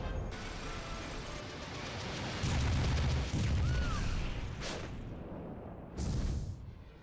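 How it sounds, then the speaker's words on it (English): Explosions go off in Super Smash Bros. Brawl, deep booms layered over dense, noisy battle sound, with a louder burst partway through and another near the end. "Peach just casually walking with explosions behind her"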